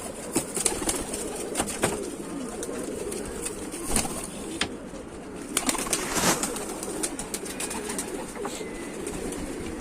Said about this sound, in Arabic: حمام بقى ينزل يا رجاله براحته كده